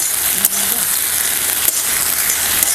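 Okra (bhindi) frying in an open pan, a steady close broadband sizzle with faint crackles and a couple of stirring scrapes, no voices.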